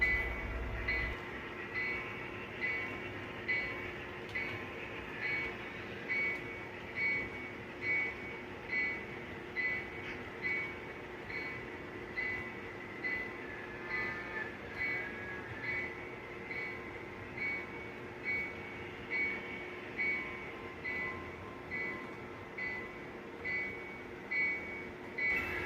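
A freight train rolls through an interchange yard, its wheels beating out a steady, evenly spaced clatter over rail joints beneath a constant low rumble, with no voices.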